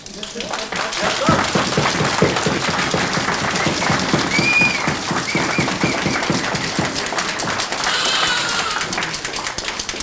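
Audience applause at a Samarth Star Awards ceremony in Malaysia, with dense clapping running steadily throughout under a loud crowd and talk.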